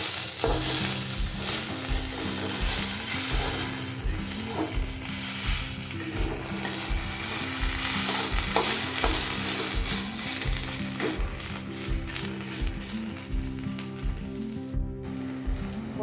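Banana stem (thor) pieces, already salted, sizzle loudly and steadily in a frying pan, with repeated rhythmic scrapes of stirring and occasional clinks of utensil on the pan throughout.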